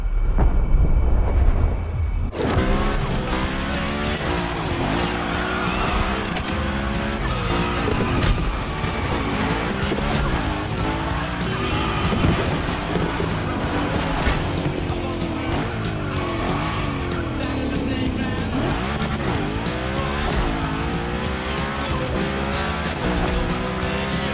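A car drifting in the video game The Crew Motorfest: a continuous roaring engine with rising and falling revs and long squealing tire skids, loud and close throughout.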